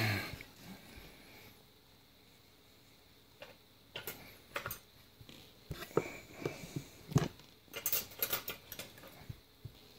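Towle Colonial butter knives clink and tick as they are set into a box, a scattered run of sharp metallic taps growing busier toward the end, close and fairly quiet.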